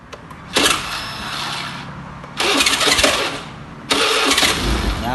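A motorcycle with a faulty starter relay or bendix is cranked three times, each attempt a loud close whirring burst of the starter motor separated by short pauses.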